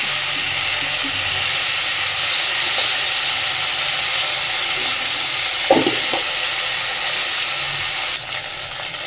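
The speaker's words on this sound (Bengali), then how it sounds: "দেখুন সুন্দর করে ভেজে নিয়েছি। এবার এই আলু আর কপিটা আমি তুলে নিচ্ছি।" Potato and cauliflower pieces fry in oil in a pan with a steady hiss and sizzle throughout, moderately close, with a few soft clinks and stirring sounds breaking through.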